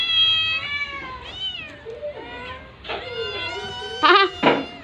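Hungry kittens meow repeatedly up close, their high, wavering cries rising and falling, with the last couple of calls louder and more urgent.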